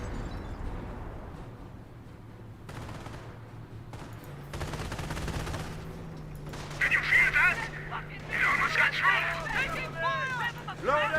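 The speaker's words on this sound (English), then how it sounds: "Or off-map howitzer shoot, I should say." Off-map howitzer artillery barrage in the Company of Heroes video game, a series of deep booming blasts and rumbling impacts followed by crackling bursts, heard under someone talking.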